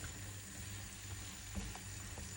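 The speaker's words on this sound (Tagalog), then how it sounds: "Ginisa ko po ito sa garlic and spring onion" Cabbage sautéing in a pan with garlic and spring onion gives a soft, steady sizzle with occasional faint stirring clicks, quiet and continuous throughout.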